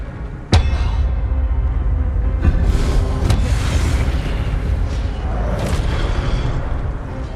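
The Expelliarmus spell is cast in the Hogwarts Legacy game with a sudden sharp crack followed by a loud, sustained magical rumble and whooshing swells that stay heavy and close, with no voices over it.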